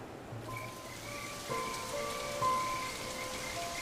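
Heavy rain pours across the Serengeti, a steady broadband hiss of drops that holds close and constant for several seconds, swelling slightly midway, with faint tonal wildlife or ambient calls threaded through and no voices.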